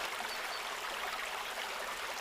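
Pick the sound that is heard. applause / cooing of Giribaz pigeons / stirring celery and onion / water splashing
water splashing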